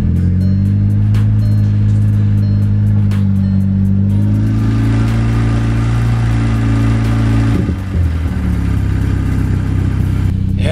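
Engine of a VW Golf MK6 R running after a repair, a loud steady close-up hum with a short rev that briefly rises and falls, continuous throughout with no voices.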